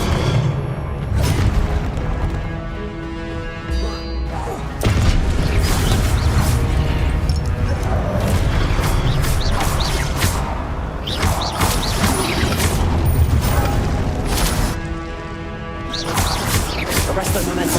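Confringo spell explosions in a Hogwarts video game: repeated booming blasts and crashing impacts with whooshes, arriving in a steady, busy stream under game music and effects.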